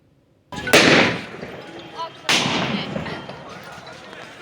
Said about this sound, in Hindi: ये देखिए ये वीडियो जिसमें फायरिंग की आवाज होती हुई सुनाई दे रही है